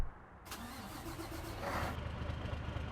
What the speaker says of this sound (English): So let's start our truck up.